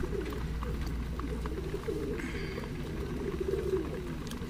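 Golden nasal teddy pigeons, high-flyer birds, coo steadily at close range throughout, with soft continuous calls over a low background rumble and no talking.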